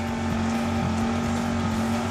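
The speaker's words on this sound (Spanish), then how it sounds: "presididos por el fuerte ruido del generador eléctrico" A loud electric generator runs at a mountain expedition camp, a constant droning engine hum with a steady tone, close and unbroken for the whole stretch.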